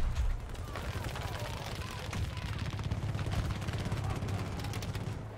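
Dense, continuous gunfire and explosions fill a Battlefield 2042 battle, rapid bursts and rumbling blasts steady throughout, with a player talking over the din.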